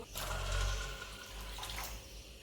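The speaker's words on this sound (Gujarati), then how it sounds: "હવે આપણે તેમાં બે ગ્લાસ જેટલું પાણી નાખીશું" About two glasses of water pour onto washed chana dal in a pot, a brief gushing splash that swells and then settles, close and fairly quiet, with no voices.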